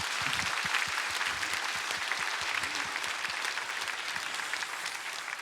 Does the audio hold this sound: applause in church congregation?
yes